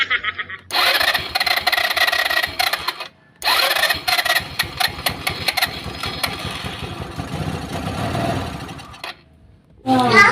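A Rusi Royal GY6 scooter engine cranks repeatedly with a busy mechanical clatter, catching briefly but failing to keep running, with short pauses between attempts.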